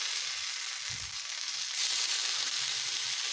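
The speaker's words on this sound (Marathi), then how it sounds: "याच्यावरती मी असे कट केलेले कांद्याचे काप आहेत ते घालते हलकंसं आपल्याला परतून घ्यायचं आहे" Sliced onions sautéing in oil in a pan for a bread sandwich, a soft continuous sizzle that swells a little partway through, with a low thump early on.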